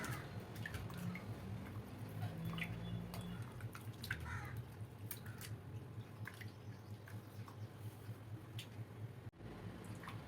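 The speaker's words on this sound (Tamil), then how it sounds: "அஞ்சு மணி நேரம் ஊறி எடுக்குது இதை நல்லா பிணையலாம்" Rice soaked five hours being kneaded by hand in water for Tirunelveli halwa, a soft, close, continuous squishing and dripping with faint splashes.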